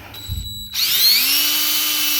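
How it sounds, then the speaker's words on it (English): A cordless drill boring a tap hole into a maple tree with a maple drill bit, close and loud, the motor whirring up to a steady whine as the bit bites into the wood. "and there the drill starts to bog down"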